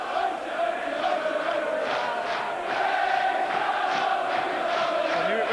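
Rangers football supporters in the stands at Dundee United, a dense crowd roaring and chanting continuously, loud and sustained throughout.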